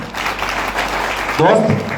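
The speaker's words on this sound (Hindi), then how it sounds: "एस्क्लेपियस वेलनेस प्राइवेट लिमिटेड के लिए जोरदार तालियां" Applause from a seminar audience at a health awareness program, a short burst of clapping that rises toward the end, mixed with a speaker's voice over a PA.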